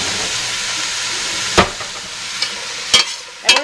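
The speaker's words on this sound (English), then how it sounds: "Now I'm going to add the celery, onions, and carrots." Diced celery, onions and carrots added to a pot where chicken is frying for soup: a steady close sizzle and hiss, punctuated by a few sharp clacks of a spoon stirring against the pot.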